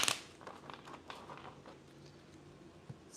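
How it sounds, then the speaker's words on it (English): Tarot cards being shuffled by hand, a brief burst of crisp card riffling at the start followed by soft, close patter and rustling of the deck. "Just gonna shuffle the cards real quick."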